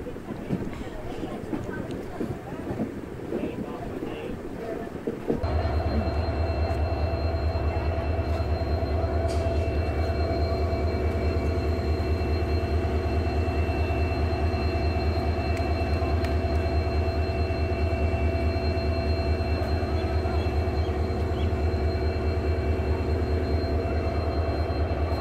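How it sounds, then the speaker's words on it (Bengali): Haldibari local train pulling out of NJP station, Siliguri: after about five seconds of quieter ambience, a loud steady low rumble and rolling drone of the moving train takes over and continues close up to the end. "এনজেপি স্টেশন থেকে ট্রেন ছাড়লো"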